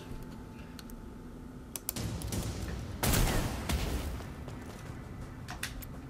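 Gunfire from Necromunda: Underhive Wars comes as a rattling burst of shots with a heavier rumbling blast near the middle. It sounds moderately loud within game ambience, with clicks from the interface and no talk.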